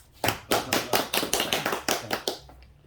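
A small audience at a monthly civic lecture claps to welcome the speaker, about a dozen distinct, evenly paced claps ringing out clearly before fading into a quiet pause.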